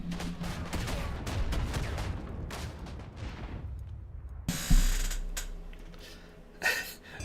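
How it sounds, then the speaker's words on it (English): Gunfire in the World War 1 video game Isonzo on the Italian Front, a volley of cracking shots with faint echoes, then a sharp thud and scattered mechanical rattles and another report near the end. "Who the heck's shooting us?"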